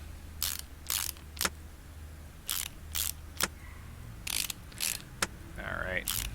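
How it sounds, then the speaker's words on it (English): Quick bursts of ratchet-wrench clicking from Car Mechanic Simulator 2018 while a new car part is fitted, several short clattering runs separated by pauses over a low steady hum, with a brief electronic chime near the end. "Definitely have to get the faster ratcheting"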